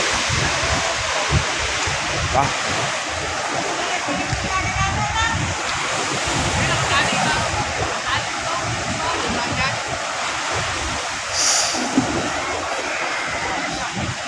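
Big waves crashing against a fishing boat on Manila Bay during a super typhoon, a continuous loud rushing and splashing roar of water, with a voice talking over it.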